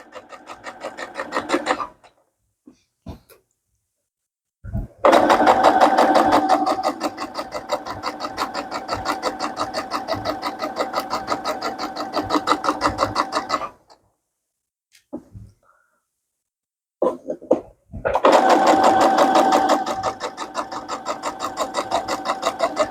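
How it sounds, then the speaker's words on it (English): A Brother embroidery sewing machine stitches in long steady runs with a fast, even mechanical rattle, stopping briefly with small handling clicks between runs. "This is a Brothers sewing machine, also embroidery."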